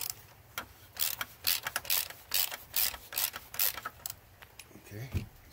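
A ratchet tightens the oil filter on a Pentastar 3.6 V6 engine, sounding as a string of quick close clicking bursts with small creaks, fairly quiet and without talk.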